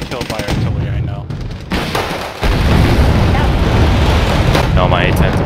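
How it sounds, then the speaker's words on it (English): Artillery shelling and gunfire in the video game Wargame: Red Dragon, a dense, continuous roar of explosions and rapid shots, loud and steady throughout with a heavier burst midway. "My infantry's getting killed by artillery, I know."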